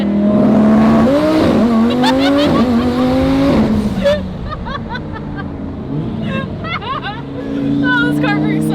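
A Lamborghini sports car revs and drives off with a rising, whining engine note and a tire squeal, then fades under excited talking from people nearby.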